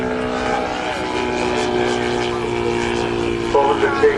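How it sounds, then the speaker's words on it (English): A large model aircraft with a 400cc twin-cylinder engine pulls up at an air show on a former RAF airfield, giving a loud, steady droning engine note with harmonic whine, and a voice commentating over it. "just pulling up, demonstrating the power of that big 400cc twin-cylinder engine"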